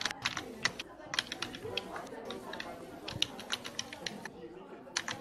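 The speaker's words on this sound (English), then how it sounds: "Let's type more." Typing on a computer keyboard while entering C++ code for an introductory programming lesson, with rapid irregular key clicks in bursts, close and moderately loud, over a faint room background.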